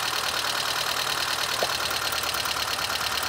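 A French car engine runs at idle with its fourth cylinder disconnected, giving a steady, close, slightly uneven mechanical drone with a faint knocking texture that holds constant throughout, with no talking.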